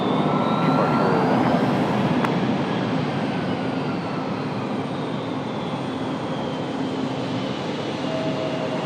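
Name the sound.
Airbus A220 airliner taxiing to the gate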